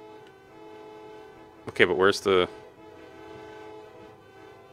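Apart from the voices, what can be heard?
car horns honking in the video game Deltarune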